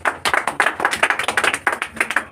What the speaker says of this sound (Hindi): इसके लिए ताली बजाइए।